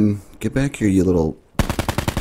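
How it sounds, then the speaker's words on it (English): SWAT RFT assault rifle fire in Black Ops 4 comes as a loud, close burst of rapid shots at the end, right after someone talks briefly. "We are running the SWAT assault rifle."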